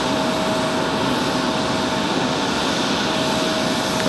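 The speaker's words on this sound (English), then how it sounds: "Arrival of that A340" An Airbus A340 jet airliner arrives at Raleigh-Durham International Airport, its engines a steady, loud, broadband roar that holds evenly throughout with no talk over it.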